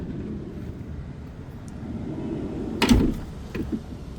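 The heavy side door of a camper van parked on a hill is opened with a loud, close rolling clunk, followed by a couple of smaller knocks over a low outdoor rumble.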